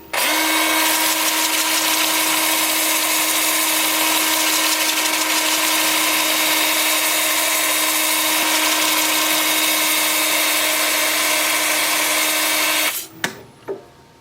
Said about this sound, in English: Lathe is spinning in reverse at 350 RPM.